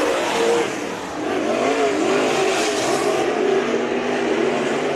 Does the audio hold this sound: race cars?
yes